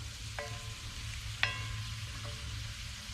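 Potatoes frying in a cast iron pan over an open fire, a steady soft sizzle with a low crackling bed and a few faint clinks from a utensil.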